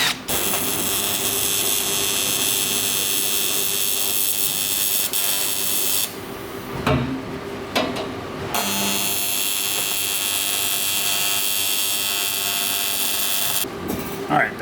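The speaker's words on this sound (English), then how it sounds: "let's see if this welds any better this time" Arc welding on broken farm equipment after running out of shielding gas, a steady loud buzzing hiss sustained for several seconds, with a brief break midway before resuming.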